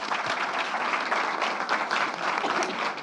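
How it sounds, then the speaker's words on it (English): Conference audience applauding steadily at a services engineering congress, a dense, even wash of clapping that holds at the same level for about three seconds with no voices over it. "João Rocha, an applause."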